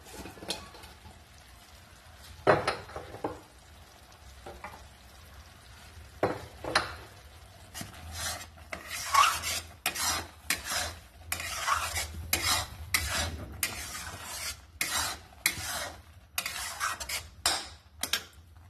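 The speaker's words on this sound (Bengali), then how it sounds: "আমি এটাকে এখন একটু একদম মিডিয়াম টু লোতে আমি এটাকে কষিয়ে নেব ভালো করে" Spiced food with salt and coriander powder being stirred and sautéed in a pan over medium-low heat: a low sizzle under repeated scraping and clinking strokes of a utensil against the pan, busier in the second half.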